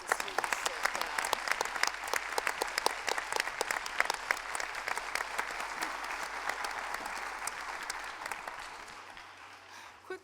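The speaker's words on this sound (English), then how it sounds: "How about we all give a round of applause for all the teachers and students that came out." Sustained applause from a crowd of teachers and students in an Indiana Supreme Court courtroom, many sharp hand claps forming a dense steady wash for about ten seconds before tapering off.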